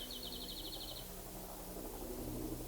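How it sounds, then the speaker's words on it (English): Faint birds twitter in quiet outdoor surroundings. A short run of rapid, high chirps comes at the start and then fades into a soft ambient hum. "birds twittering"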